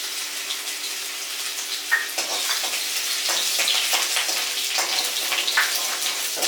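Ginger drops into hot oil with popped mustard seeds in a pan, hissing in a steady, close sizzle with occasional crackling pops throughout.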